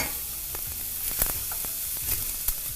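A spaghetti frittata mixture dumped into a hot 10-inch pan sizzles and crackles steadily, with a few sharper spits and pops over the frying hiss.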